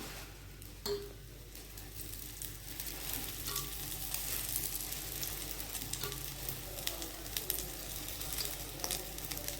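Aval (poha) cutlets shallow frying in a thin layer of oil, a steady close sizzle and crackle throughout with a few soft clinks of a utensil.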